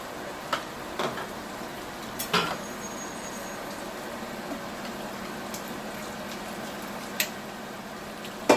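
Soft bubbling and a low steady simmer fill the background, with occasional scrapes and clinks of a utensil against a pot as meat pie filling is mixed.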